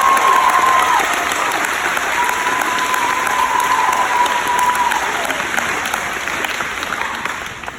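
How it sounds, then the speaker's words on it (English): Audience applauding at a 5th grade graduation at an elementary school, a loud sustained round of clapping from a crowd that slowly tapers off toward the end. "Can we give Miss Arnold and her team a round of applause?"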